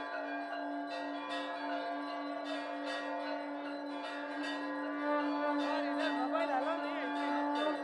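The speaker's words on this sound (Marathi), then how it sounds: "शंखनाद करत, घंटानाद करत, पारंपरिक वाद्याच्या तालावर ठेक्यात आरती प्रभू श्रीरामांची झालेली आहे।" Temple bells ring during aarti in the sanctum of the Ayodhya Ram temple, a steady stream of rhythmic metallic strikes over a sustained ringing drone, heard somewhat faint and distant throughout.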